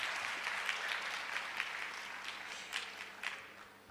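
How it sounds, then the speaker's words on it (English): Faint, distant applause from a summit audience in a hotel hall, a soft continuous patter of many hands with a few sharper claps standing out. "Clap, please."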